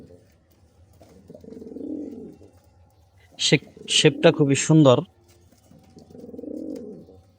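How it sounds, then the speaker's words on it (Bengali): A male Mili racer pigeon coos in two low, throaty rolling bouts, one near the start and one at the end, close by, with someone speaking briefly between them. "এটা একটা মিলি রেসার নর কবুতর।"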